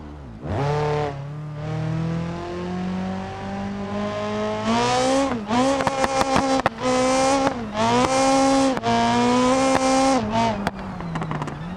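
A car in the BeamNG driving game accelerates hard, its engine pitch climbing and dropping sharply with each of several quick gear shifts, loud and close, with brief bursts of tire noise and no talking.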